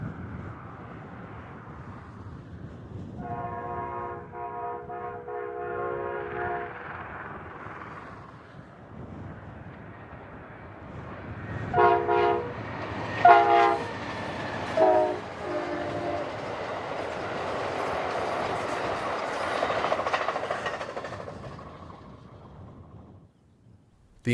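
Amtrak passenger train number 3 races past at speed just east of Wagon Mound, New Mexico, sounding chords of its horn as it approaches, then a swelling rush and rumble of the consist passing close before fading.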